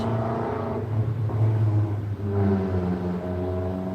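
A car with a loud muffler rumbles past close by, its deep exhaust swelling twice over a few seconds.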